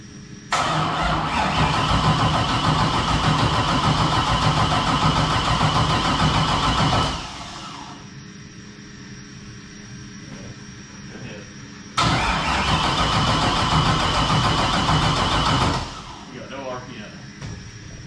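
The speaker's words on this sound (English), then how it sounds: "No RPM on the cranking, so either maybe I didn't plug something in, or Nate, any other guesses?" An LS V8 fitted in a Nissan 240 drift car cranks over in two long bursts, about seven and four seconds long, with a quiet pause between them, loud and close, and it never catches or fires.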